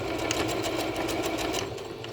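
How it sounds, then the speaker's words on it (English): A sewing machine back-stitches a kids' fitted mask in one fast, continuous whirring run, close and steady, with a pulsing mechanical rhythm. "So we're gonna back stitch like crazy."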